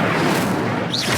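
An Incendio fire spell cast in Hogwarts Legacy gives a brief, dense whooshing burst with a soft boom underneath, ending in a rising swirl.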